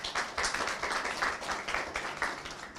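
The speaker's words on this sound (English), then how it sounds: "A huge round of applause for her," An audience applauds a lecturer at a talk on the history of automation, a dense, steady patter of many hands clapping at moderate volume through the whole stretch, with no speech.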